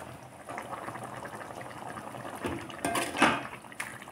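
Vada curry gravy simmers in a pot, bubbling softly and irregularly at close range, with a few louder pops and splutters near the end and no voices.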